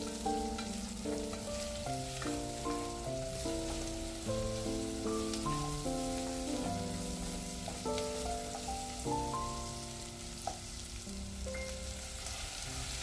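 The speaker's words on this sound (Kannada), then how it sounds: "ಈಗ ಇನ್ನೂ ಸ್ವಲ್ಪ ಹೊತ್ತು ನಾನು ಫ್ರೈ ಮಾಡ್ತಾ ಇದ್ದೇನೆ. ಅಂದರೆ ಈ ರೀತಿ ಎಣ್ಣೆಯಲ್ಲಿ ಆಲೂಗಡ್ಡೆಯನ್ನು ಫ್ರೈ ಮಾಡಿದರೆ" Potatoes and onions fry in oil with a soft, steady hiss of sizzling, partly buried beneath a louder melodic music track throughout.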